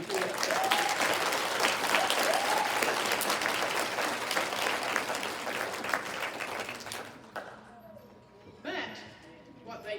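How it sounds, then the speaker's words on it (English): Sustained applause from an audience at a nursing school pinning ceremony, dense clapping filling most of the clip before tapering off into scattered claps and room noise. "give some applause to your fellow nursing school students for the support and uplifting they've given you throughout"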